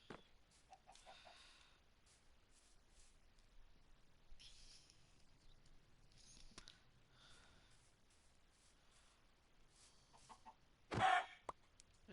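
Minecraft chicken clucks softly a few times within a quiet game scene, ending in a louder burst as the bird is struck and killed.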